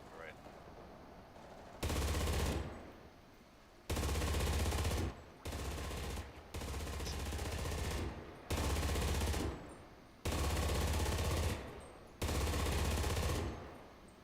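Gunfire in a multiplayer video game, loud sustained bursts of automatic fire roughly two seconds each, repeating several times with brief gaps, over quieter ambient game noise.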